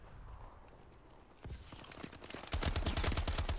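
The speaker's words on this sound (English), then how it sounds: "I didn't know it was a 3-round burst gun" A 3-round burst rifle in Call of Duty: Advanced Warfare fires in quick, sharp shots, quiet at first and then a louder rapid string of close gunfire near the end.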